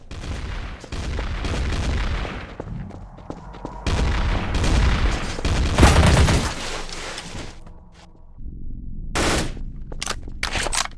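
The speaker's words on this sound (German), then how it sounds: "Er wird geballert!" Bursts of automatic gunfire and booming shots from a TTT match in a first-person shooter game, loud rapid fusillades in several waves with brief gaps, ending in scattered sharp shots.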